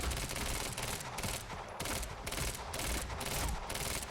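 Rapid automatic submachine gun fire from the video game Quantum Break rattles in loud, dense bursts with short pauses between volleys, filling the whole stretch.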